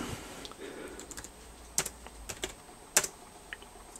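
A few keys tapped on a computer keyboard to enter a number into the monitor program of a homebuilt Simple-Z80 computer, sparse close clicks over faint background hiss.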